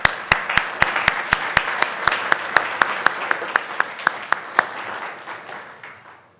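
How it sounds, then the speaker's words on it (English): An audience at a Huntington Beach city council meeting claps in a brief round of applause, individual sharp claps standing out in a steady rhythm before thinning and fading away, moderately loud in an indoor chamber. "Let's give her a round of applause."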